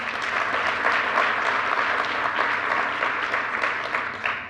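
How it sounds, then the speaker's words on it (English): Conference audience applauding in a large hall, a dense sustained clatter of many hands that holds steady for several seconds before starting to taper at the end. "We can all give her a round of applause."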